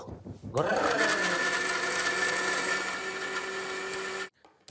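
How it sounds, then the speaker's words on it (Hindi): A mixer grinder blends dal and rice into a smoothie, starting with a sharp whine that ramps up to a steady loud motor hum for about four seconds, then cuts off abruptly. "इसलिए उसको मिक्सी में डाल के उसकी स्मूदी बनानी चाहिए"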